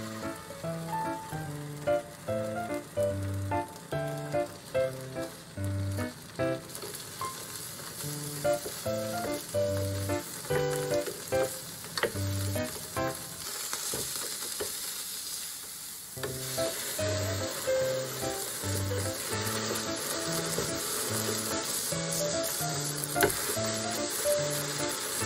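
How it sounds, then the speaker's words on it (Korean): Tofu pan-frying in a little oil until golden gives a steady close sizzle, while soft background music plays throughout. "팬에 기름 조금만 두르고 두부를 노릇하게 구워주세요."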